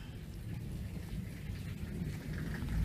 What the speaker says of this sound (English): I'm in a thunderstorm right now outside my house.